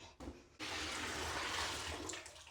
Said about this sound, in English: we're gonna fill the bathtub up with a little amount of hot water